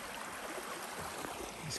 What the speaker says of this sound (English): This creek running down that way